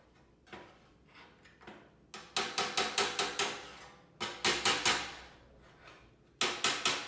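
A hammer strikes the sheet metal of a vintage Skilsaw 825 box, backed by a dolly, in bursts of quick ringing metallic blows separated by brief pauses, loud and close with no talking.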